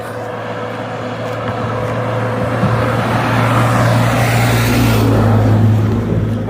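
Highway traffic rushing past a roadside walker, a steady loud roar of engines and tires that swells gradually as vehicles approach, with a low droning hum underneath and no talking.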